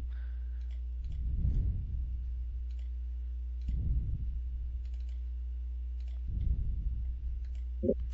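Faint, sparse computer mouse clicks while resources are replaced in the 7-Zip file manager, heard over a steady low hum and soft rumbling noises.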